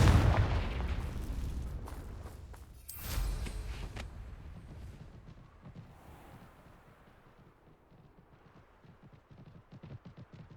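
Confringo fire spell blasts in Hogwarts Legacy: a heavy booming burst opens, a second sharp explosion hits a few seconds later, then a low rumble fades into quieter crackling.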